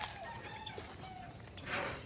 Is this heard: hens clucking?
yes